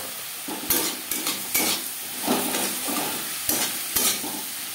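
Spices cooked down with onion and tomato in a pan for a Bengali vegetable fish curry, sizzling steadily while a spatula scrapes and clanks against the pan every second or so, close and fairly loud, with no voices.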